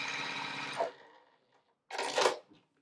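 A sewing machine stitches quilt fabric made from precut pieces. It gives a brief steady whir that stops, then after a pause runs again in a second short burst, heard up close with no talking.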